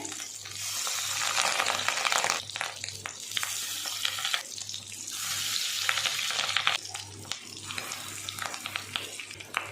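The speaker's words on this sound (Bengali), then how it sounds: "দেখো মাছের ডিমগুলো কি ফুটছে" Fish roe fries in a pan with a bright, continuous crackling sizzle that swells and eases, punctuated by small clinks and pops close to the pan.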